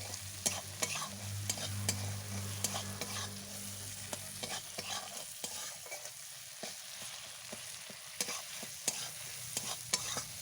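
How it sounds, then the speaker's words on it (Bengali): Onion-tomato masala with chili and turmeric powder stirred and fried for a puti fish curry, a quiet sizzle under frequent rhythmic spatula scrapes and taps against the pan, with no voices. "লঙ্কা গুঁড়ো, হলুদ গুঁড়ো দেওয়ার পর ভালোভাবে নাড়াচাড়া করে কষে নেব।"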